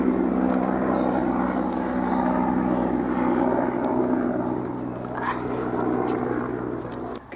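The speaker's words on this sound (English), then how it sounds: "we live over airspace, you see, so there's quite a few bits, you know, aircraft and that coming along." A propeller aircraft passes overhead, giving a steady, continuous engine drone and rumble that stays loud throughout with no clear fade, heard outdoors.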